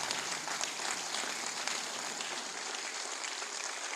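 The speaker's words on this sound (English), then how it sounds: "let's continue to clap for him, just in appreciation of his services" A lecture-hall audience claps steadily at a university valedictory lecture, dense sustained applause heard from a moderate distance, fairly even in level and free of talk.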